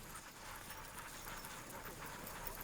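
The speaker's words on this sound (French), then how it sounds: "juste le bruit des chiens, la respiration des chiens, le bruit des patins dans la neige" Team of sled dogs running on an Alpine mushing trail, a faint steady patter of paws with quick panting and the soft hiss of sled runners sliding over snow, distant and even with no talking.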